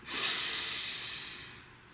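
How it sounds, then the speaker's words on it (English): One long, deep breath, close and airy, swells quickly and then slowly fades over about two seconds. "Please take a nice deep breath."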